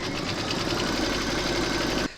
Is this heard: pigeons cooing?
no